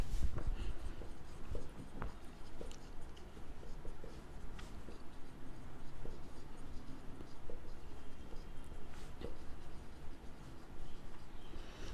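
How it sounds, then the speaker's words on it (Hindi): A pen scratches across paper while an accounts entry is written out, giving continuous soft strokes and small taps, fairly close and quiet, with no talking. "तो चलिए फिर लिखते हैं"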